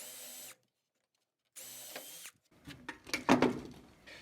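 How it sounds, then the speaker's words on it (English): A power drill with a 5/16 bit whirs in short bursts separated by a pause, followed by rough grinding and scraping as the bit bites through two pieces of wood. "with a 5/16 drill bit, we're going to drill down through both pieces."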